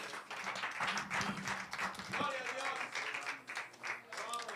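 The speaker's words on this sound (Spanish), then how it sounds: "Den un aplauso al Señor," A church congregation applauds the Lord during a service, steady crowd clapping throughout with faint voices mixed in and a brief low rumble near the start.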